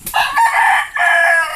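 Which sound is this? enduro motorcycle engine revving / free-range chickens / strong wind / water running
free-range chickens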